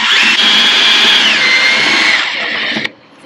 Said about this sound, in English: I just want to drill through it.